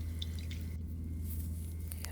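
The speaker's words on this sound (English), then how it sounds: "you need to squeeze and strain the water out of it" Water drips and trickles from soaked paper pulp squeezed through a small metal strainer into a container. Close, wet patters sound over a steady low hum, with no speech.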